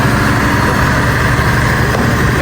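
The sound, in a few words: train passing by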